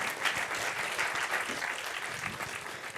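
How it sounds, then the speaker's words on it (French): An audience claps warmly after a round-table discussion at a conference on low-carbon construction and repairs. The applause is a dense, even patter that holds steady throughout. "un tonnerre d'applaudissements"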